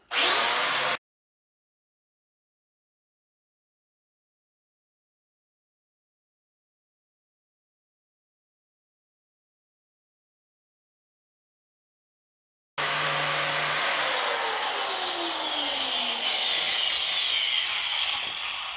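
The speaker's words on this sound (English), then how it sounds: "I just go to the old wire brush. It's slow, it's loud, and it's really dirty" A power wire brush scrubs rust off a Case D engine's gasket surface, beginning with a brief loud burst, then a long silence, then a sustained, loud, harsh grinding whir that runs on steadily to the end.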